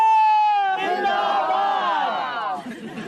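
A sustained tone gives way to a crowd roaring and cheering, loud and close, with voices shouting together before the noise tapers slightly.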